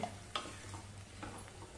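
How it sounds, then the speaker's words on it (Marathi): A potato is stirred in a pot of boiling water, with faint scraping stir strokes and a low, steady background hum, heard close and quiet with no talking. "चांगला हलवून घेऊया"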